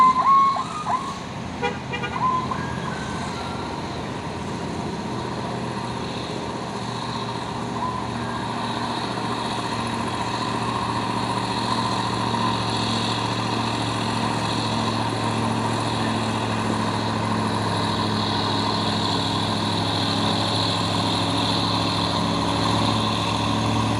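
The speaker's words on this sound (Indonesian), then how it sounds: "Dan ini ada lagi truk tangki CPO menurun." CPO tanker truck heading downhill on a road, a continuous low engine drone with steady hum, and a brief horn-like toot near the start.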